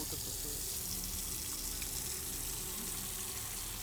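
Water runs steadily from a tap into a container in Autopsy Simulator, a continuous close, even gush lasting throughout with a faint voice underneath.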